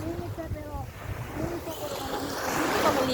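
Waves wash and surge steadily nearby, with wind noise and a few voices talking over the surf.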